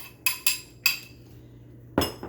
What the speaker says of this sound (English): So I'm going to throw those into the glass bowl.